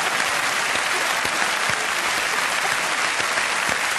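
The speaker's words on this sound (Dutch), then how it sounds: "misschien is het wel leuk om even de eigenaar van deze zwarme tent een hartelijk applaus te geven" Warm audience applause fills a Dutch national song contest venue, steady and dense clapping from a large crowd, sustained evenly with no talk over it.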